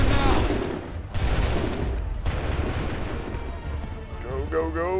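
Musket volley gunfire from a battle in the video game Assassin's Creed 3: dense, loud crackling bursts of massed rifle shots roll continuously over a rumbling low battle din, with a voice shouting near the end.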